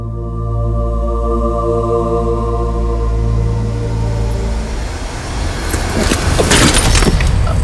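A car engine drones steadily up close from a moving vehicle, then the engine note falls away as it pulls to a halt, leaving a burst of broadband rattle and road noise near the end.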